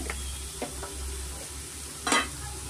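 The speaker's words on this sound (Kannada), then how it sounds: "ಮೀಡಿಯಂ ಫ್ಲೇಮಲ್ಲಿ ನಾವು ತರಕಾರಿನ ಚೆನ್ನಾಗಿ ಬೇಯಿಸ್ಕೊಬೋದು" Beans, carrot and onion cook in a pan over a medium flame, with a steady low sizzle broken by a few scraping stirs and one louder clatter of the spoon near the end, and no talking.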